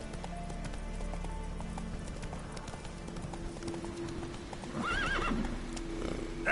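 In a PS4 video game, the horse Roach gallops with a steady run of hoofbeats and lets out a loud whinny near the end.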